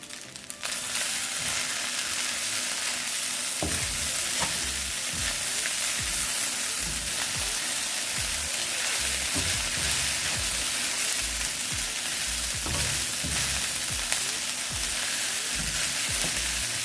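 Vegetables stir-fry in a hot pan for Jamaican-style Chinese shrimp fried rice, giving a steady, dense sizzle throughout, broken by frequent scraping and tossing of the spatula, with no voices.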